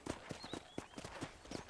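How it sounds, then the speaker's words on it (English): Horse hooves clip-clop at a steady trotting rhythm in the video game Red Dead Redemption, a close, fairly quiet series of hoofbeats with no talk over them. "Control that horse, will ya?"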